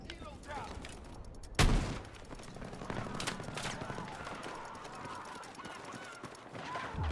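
Gunfire in Battlefield 6, one loud close shot followed by scattered distant shooting and crackling battle noise, with a voice talking over it.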